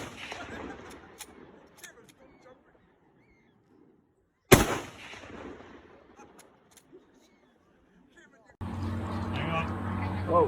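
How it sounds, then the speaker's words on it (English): A single loud, sharp high-powered rifle shot at an outdoor Anzac Day ceremony on Monument Road, Tapuhi, New Zealand, ringing out and decaying over quiet crowd murmur before steady noise returns. "we now have 3 shots from our high-powered rifles."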